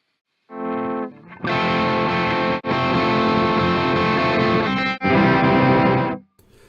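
An electric guitar plays through a Brainworx Megadual pedal on auto settings, giving loud, distorted, heavily effected chords in a few sustained blocks with brief gaps, close and alone.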